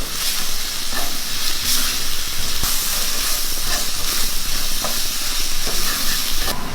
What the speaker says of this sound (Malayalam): നല്ലപോലെ ഒന്ന് വഴറ്റിയെടുക്കാം